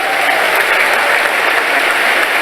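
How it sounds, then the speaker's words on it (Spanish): A congregation at a church service applauds loudly and continuously, a dense, even wash of many hands clapping at once with no talking over it. "den un fuerte aplauso al Señor"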